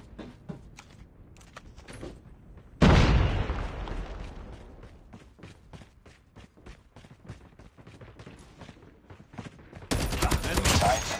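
A sudden loud grenade explosion in Call of Duty Mobile rumbles and fades, then continuous gunfire crackles on, rising into a heavy final barrage.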